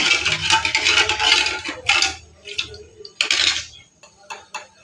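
Spoon stirring sugar into a dhokla batter in a bowl, quick clinking scrapes in bursts with short pauses, close and fairly clear.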